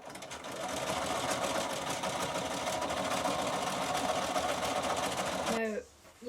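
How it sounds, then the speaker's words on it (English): A sewing machine stitches a frill onto a cushion, running in a steady, fast, close-up mechanical hum for several seconds, then stopping abruptly near the end as a voice briefly begins to speak. "You may find that sometimes you'll be sewing against the pleats."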